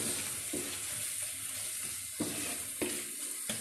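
Patiala chicken with chopped green chillies cooking in a pan, a soft steady sizzle broken by a few brief stirring scrapes, close and quiet with no talking.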